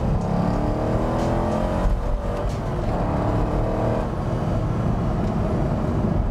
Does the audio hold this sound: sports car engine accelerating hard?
yes